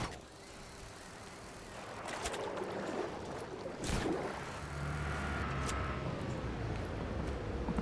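Water sloshing and splashing around a moving boat in a video game, with a steady engine-like rumble and a couple of sharper splashes midway.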